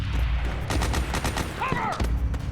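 Rapid gunfire rattles through a firefight in the video game Metal Gear Solid 4, with loud overlapping bursts and shots under steady background noise and a soldier's shouted voice.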